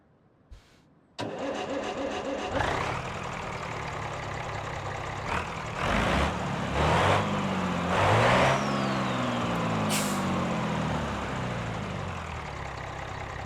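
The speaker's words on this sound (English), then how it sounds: "Let's hear what it sounds like in the engine bay." A truck engine in BeamNG.drive cranks and starts from near-silence, then idles steadily in the engine bay. It is revved several times, rising and falling, with one brief high air-brake hiss near the end.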